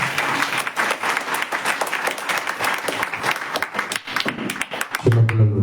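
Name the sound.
congregation applauding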